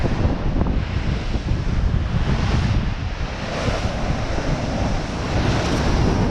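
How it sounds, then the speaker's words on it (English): Stormy sea waves crash and churn at high tide along the Blackpool seafront, a loud, continuous roar of surf mixed with heavy wind buffeting the microphone, with no voices. "Look at some of these waves out here."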